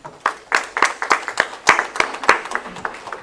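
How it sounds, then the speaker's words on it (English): An audience applauds at the inaugural session of the Odisha State Ophthalmological Society's 40th annual conference, with close, distinct claps in a steady rhythm over a few seconds. "everybody clapped at what she said"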